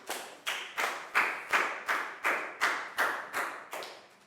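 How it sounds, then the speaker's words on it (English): Classroom clapping in a Year 4 science lesson, a slow, regular run of about eleven sharp, loud claps in unison, evenly spaced with no voices. "High five and a big round of applause for Bangpon, please, guys."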